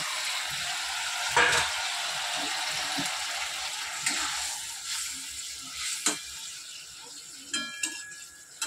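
Fish sizzles and spits in hot oil in a home kitchen, a steady frying hiss broken by occasional clinks and scraping of a utensil against the pan.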